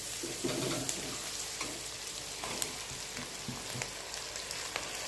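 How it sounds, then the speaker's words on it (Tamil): Tomatoes sauté in a clay pot for a vegetable biryani, giving a steady soft sizzle with scattered crackles and occasional stirring clicks, close and continuous, with no talking. "தக்காளி நல்லா வதங்கட்டும்"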